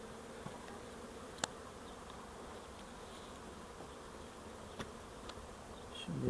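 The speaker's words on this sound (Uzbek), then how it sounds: "jahli chiqyapti arilarni" Angry bees buzz continuously around someone close by, a dense steady hum with a few sharp ticks, rising slightly in loudness at the end.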